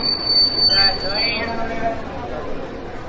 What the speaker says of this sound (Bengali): ট্রেন জাংশন স্টেশনে এসে পৌঁছল